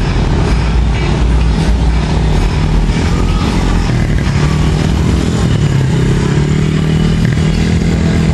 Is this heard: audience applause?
no